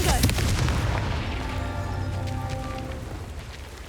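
In Hogwarts Legacy, a Confringo fire spell bursts with a loud, booming explosion that fades into a crackling, rumbling tail over a few seconds.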